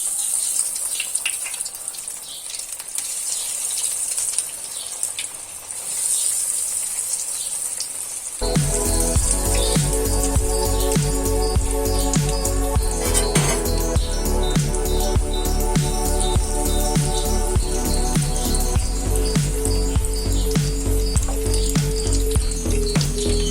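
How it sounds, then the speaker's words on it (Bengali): Potato-stuffed bread rolls deep-frying in hot refined oil over medium heat, a loud, dense, continuous sizzle bursting in suddenly after a quieter stretch of faint hiss and lasting steadily to the end. "তো এখন আমি মিডিয়াম আঁচে এগুলোকে ভেজে নেব।"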